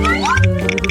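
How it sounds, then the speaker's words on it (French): A short, close meow rises in pitch, with a harmonic, voice-like quality. "Ah ouais, c'est un chat."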